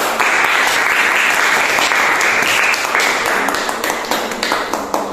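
A classroom of students clapping their hands during an English lesson, dense, loud applause filling the room and tapering slightly toward the end.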